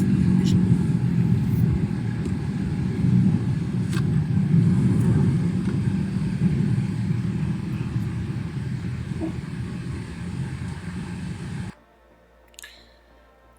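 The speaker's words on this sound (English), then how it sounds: "And I would imagine it sounds like his car's running" A car engine idles with a steady low rumble and hum close by, continuing evenly for most of the stretch before cutting off abruptly into near silence.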